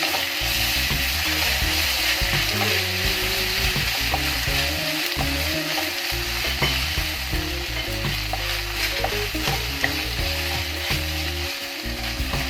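Steady, loud sizzling of onions and ginger-garlic paste frying in a pan for prawn biryani, with occasional stirring scrapes, continuous throughout with no talking.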